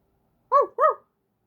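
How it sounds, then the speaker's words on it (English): A dog gives two quick, clear barks close by, with silence before and after. "Barked the dog."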